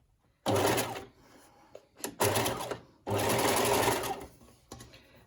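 A sewing machine edge stitches a folded bound cuff in three close, loud bursts of rapid running stitches. Short quiet pauses separate the runs, and the middle burst is brief and choppy.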